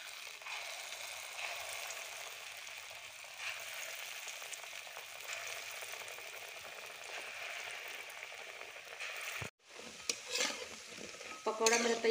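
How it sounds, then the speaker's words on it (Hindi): Pakoras deep-frying in oil: a soft, even bubbling hiss that runs steadily, fairly quiet. Near the end it cuts off briefly, followed by utensil clatter and handling noise. "अब पकौड़ा हम तलेंगे।"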